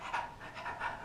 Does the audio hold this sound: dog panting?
yes